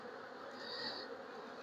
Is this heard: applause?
no